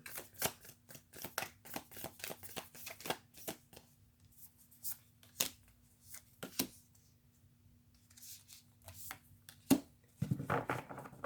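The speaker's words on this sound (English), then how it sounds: "These cards are new, so they do stick together still." New, slightly sticky tarot cards being shuffled by hand, a run of crisp riffling bursts and taps in quick irregular clusters with short pauses, close and fairly quiet, no talking.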